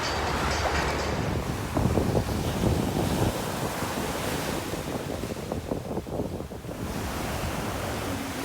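Ocean waves wash onto a Goa beach at night in a continuous roar, with gusts of wind buffeting the microphone and surges swelling and fading.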